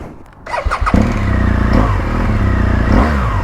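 An adventure motorcycle engine is cranked with a few uneven bursts, then catches and idles loudly with a throbbing rumble, revving up briefly near the end.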